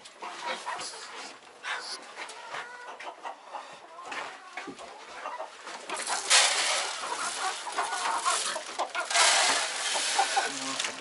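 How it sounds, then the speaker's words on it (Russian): Hungry chickens cluck and squawk in a busy farmyard at feeding time, with a dog panting and barking nearby and a person talking over the commotion. "Ну, побежали, побежали, голодные куры."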